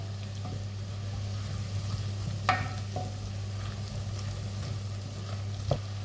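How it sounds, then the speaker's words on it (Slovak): Ingredients for tomato soup sauté in a pot, a soft, steady sizzle under a low hum, with a few light scrapes and clinks of stirring. "Chvíľku orestujeme."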